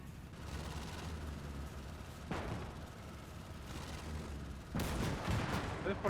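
Gunfire strikes a Panzer II tank in a WW2 video game: steady rumbling battle noise with sharp bursts of shots near 2.3 and 4.8 seconds, loud and dense, under faint voices.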